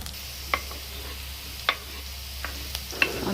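Onions fry in a pan for potato curry, a steady low sizzle with occasional light clicks and taps of a stirring spoon against the pan.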